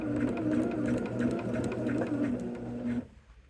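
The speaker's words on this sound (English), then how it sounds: "Just sew down this side on the line." A sewing machine runs steadily, stitching a quilt seam with a continuous mechanical hum and rapid rhythmic needle clatter for about three seconds, then stops abruptly, leaving quiet room tone.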